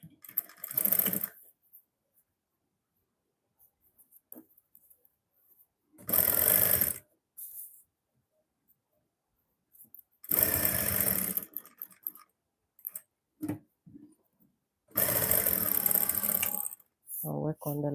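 A sewing machine stitches fabric in several separate loud whirring bursts of a second or so each, with quiet gaps between them and a few short spoken remarks in the pauses.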